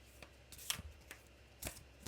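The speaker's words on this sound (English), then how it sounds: "Let me just shuffle these a little bit more." Tarot cards being shuffled by hand in a quiet room, with a few separate soft riffling and slapping bursts spread across a couple of seconds, faint and close.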